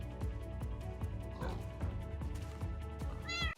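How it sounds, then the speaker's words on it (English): A baby ocelot in the Minecraft video game gives a series of short, soft meows, faint and repeated in an even rhythm, ending on a higher, rising mew. "We've got ourselves a baby ocelot."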